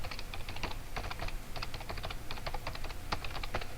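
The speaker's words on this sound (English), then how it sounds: "by typing in my email address" Rapid clicking of keys on a computer keyboard, steady bursts of typing close to the microphone over a low background hum.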